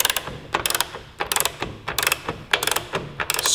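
Torque wrench ratcheting on the rear shock bolts of a 2018 Suzuki GSX-R1000 during an Ohlins shock install: repeated short bursts of close, crisp clicking in a steady back-and-forth rhythm, with no talk.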